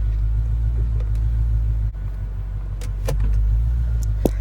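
A 2012 Ford Mustang GT convertible idles just after startup with a steady, deep rumble, heard close, with a couple of faint clicks from the cabin.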